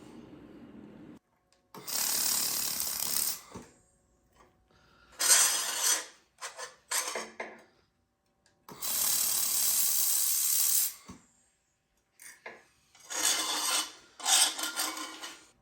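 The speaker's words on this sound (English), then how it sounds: "So I'm gonna try some joint welds here." An XLaserLab X1 Pro 3-in-1 laser welder makes joint welds in several hissing bursts of a few seconds each, with quiet gaps and small clicks between them. The sound is close and carries no speech.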